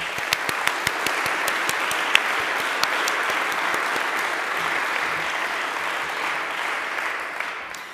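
Steady applause fills the room at a Protestant church reception in Austria, a sustained crowd clapping with a few sharper individual claps standing out over about eight seconds.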